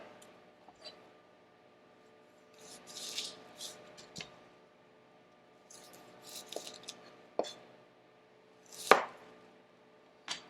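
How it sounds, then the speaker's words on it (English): A knife cuts through an onion on a board in a school kitchen, giving quiet, close, irregular slicing crunches and a few sharp knocks against the board, separated by near silence. "while we start cutting our onion"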